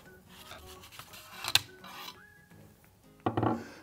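Western Airguns Sidewinder air rifle having its barrel removed, with metallic rubbing and rasping scrapes and a sharp click near the middle, then a louder cluster of metal clatter at the end, close and alone.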